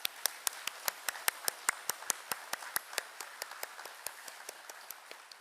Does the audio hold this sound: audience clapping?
yes